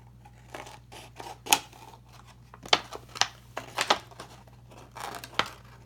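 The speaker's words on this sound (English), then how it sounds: "Now what I'm going to do is trim off this excess over here." Scissors trim excess splint material in a series of sharp, close snips spaced irregularly over a low steady hum.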